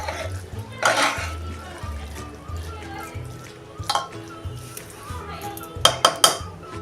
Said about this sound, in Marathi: आणि आता हा आपण खालीवर करून चांगला एकसारखा मिक्स करून घेऊया